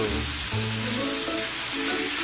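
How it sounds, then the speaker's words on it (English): Steady hissing sizzle of pork being sauteed in a hot pan for adobo, close and continuous with a faint low hum underneath. "saute it further. So you're hearing now the sizzles."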